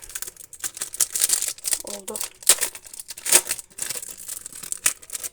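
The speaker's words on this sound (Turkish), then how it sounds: "Twilight Masquerade'in Japoncasından açıyoruz şu an" A Japanese Twilight Masquerade Pokémon card booster pack is torn and crinkled open up close, with sharp bursts of foil ripping and rustling while a voice talks quietly in the background.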